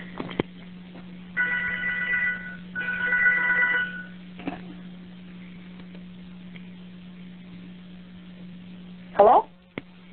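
An old-style telephone bell rings indoors in two bursts over a steady low electrical hum, and a clattering knock follows later, likely the handset being picked up.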